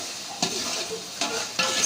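Chopped garlic, ginger and green chilli fry in hot oil for chickpea pulao, giving a soft, steady sizzle broken by a few bursts of louder crackle as the pieces are stirred.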